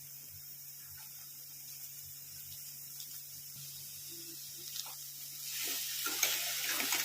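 A soft, low sizzle of shark mince and masala cooking in a pan, with light stirring scrapes, growing a little louder toward the end.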